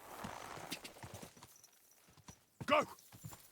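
Rhythmic horse hoofbeats clip-clopping at a trot in the video game Kingdom Come: Deliverance II, with brief voice bursts and a short loud whinny-like sound near the end.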